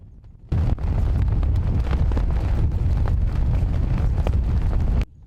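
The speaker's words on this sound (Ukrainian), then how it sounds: "шум вітру, який розвіває українські прапори на Сабарівському кладовищі" Wind gusts sweep across Ukrainian flags at the Sabarivske cemetery in Vinnytsia. The loud, rumbling buffeting starts abruptly, holds steady for several seconds, then cuts off, with no voices.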